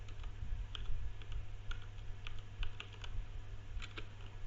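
Someone types on a computer keyboard in uneven bursts of close, light key clicks over a low steady hum.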